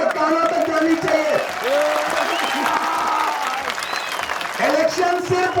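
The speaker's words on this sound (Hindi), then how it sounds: "कमजोर ताली बजी है, और जोर से ताली उनके कानों तक जानी चाहिए।" A large crowd at an outdoor election rally in Banihal, Jammu and Kashmir, claps continuously and fairly loudly, while a speaker's amplified voice carries over the applause at the start and end.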